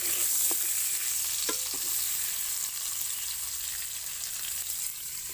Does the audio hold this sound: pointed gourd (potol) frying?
yes